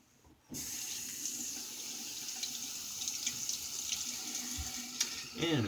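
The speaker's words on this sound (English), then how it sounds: "And a quick rinse." Tap water running steadily into a sink for a rinse after a double-edge razor shave, a continuous close hiss that starts abruptly after a brief quiet moment and carries on alone with small splashy variations.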